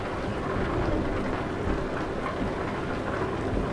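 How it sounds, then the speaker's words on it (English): Rain in Euro Truck Simulator 2 pours as a dense, steady hiss of falling water and road spray, continuous and fairly loud with no speech over it. "I also love the rain effects, and you see the kicking up water and stuff on the road"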